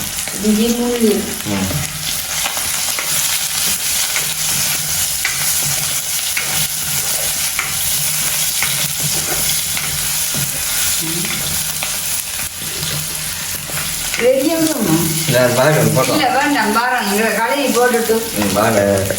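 Onions sautéing in a pan, a loud, steady sizzle and fry with occasional stirring, with people talking over it near the end.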